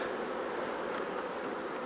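Honey bees buzz steadily around open hive frames during an August shook swarm, a dense continuous hum with no voices over it.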